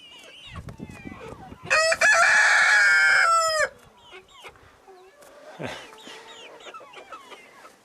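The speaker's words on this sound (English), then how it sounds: "There's a chicken pen." Chickens in a pen in Nepal cluck close by, with one loud rooster crow sustained for nearly two seconds in the middle, then scattered clucks and squawks afterward.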